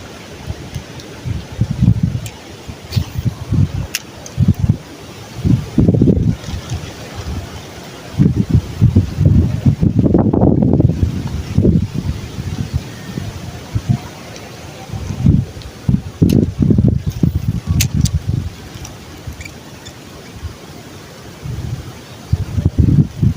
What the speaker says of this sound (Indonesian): Anginnya kencang sekali kawan